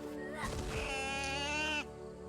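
A goat-like creature in the action game Biomutant gives a drawn-out, wavering bleat over a steady bed of game music, loud and close for about a second and a half.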